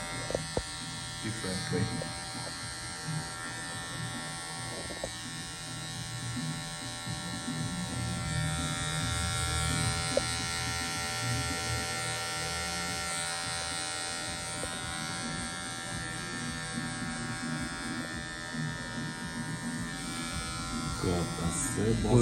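Electric hair clipper buzzing steadily through a classic tapered fade haircut, the motor hum continuous at close range while someone talks over it throughout.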